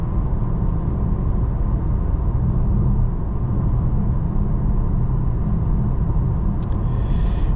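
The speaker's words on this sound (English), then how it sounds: "Just a bit of tire noise going on." Cabin of a 2024 VW Taos SEL driving above 40 mph, filled with a steady low rumble of tire and road noise, constant and fairly loud, with a faint brief click near the end.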